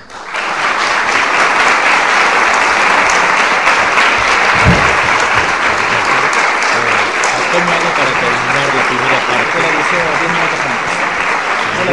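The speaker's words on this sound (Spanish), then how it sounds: "yo también le pido a ustedes un fuerte aplauso para el Padre Sáenz" Loud, sustained applause from a lecture audience for a priest, dense even clapping that swells in quickly and holds strong for the full length without letting up.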